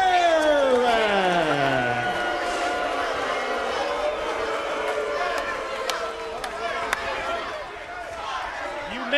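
A capacity wrestling crowd roars for Sting at the Hard Justice pay-per-view, a dense sustained arena din with cheering and whoops layered under a commentator's voice.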